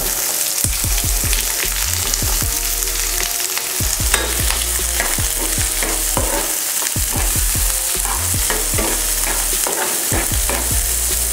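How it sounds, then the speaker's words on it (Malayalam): Finely chopped onions frying with garlic in a hot pan for a chilli egg bonda dish, a loud continuous sizzle broken by repeated scraping stirs, close up, with no voices. "അതിലേക്ക് ചെറുതായി അരിഞ്ഞ വലിയ ഉള്ളി ഇട്ട് കൊടുക്കുക."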